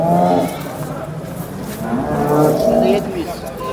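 Cows at a cattle market moo loudly and close by in long, drawn-out calls that overlap one another, with no other sounds standing out.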